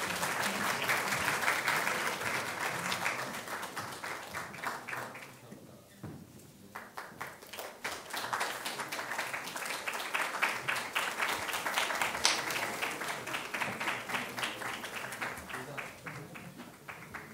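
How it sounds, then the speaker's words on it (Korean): A large audience at a university presentation competition's closing award ceremony gives sustained, dense applause that swells, dips briefly, then rises again, continuing throughout without letting up. "다시 한번 큰 박수로 맞이해 주십시오."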